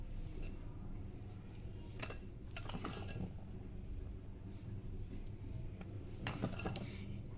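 Pita bread dough is mixed with cooking oil in a bowl, giving quiet, scattered clinks and soft scraping of a utensil against the dish, with no talking.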